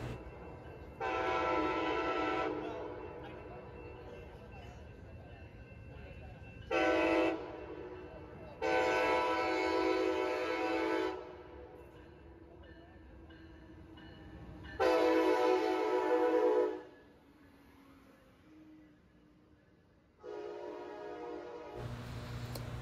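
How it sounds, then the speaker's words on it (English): A passenger train pulls into the Springfield, Illinois station bound for Chicago, blowing several loud, sustained horn blasts over a low, steady rumble of the approaching cars. "and here comes the train."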